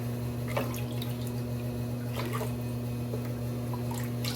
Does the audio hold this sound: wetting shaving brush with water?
yes